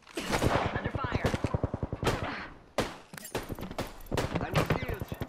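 Automatic weapon fire in the battle royale game Apex Legends: rapid, evenly spaced shots in long bursts with a brief pause near the middle. The firing is loud and close, with character voice lines over it.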